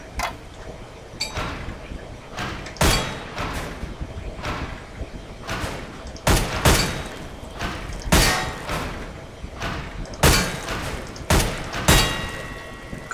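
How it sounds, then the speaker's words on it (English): Gunshots from the Counter-Strike: Global Offensive weapons training course ring out in a loose series of sharp cracks with reverberant tails, fired at wooden targets with short gaps between bursts and a low room tone underneath. "pick up the weapon and shoot 5 bad guys for me"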